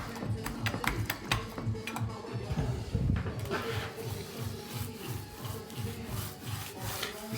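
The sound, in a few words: paint roller rolling paint onto a wall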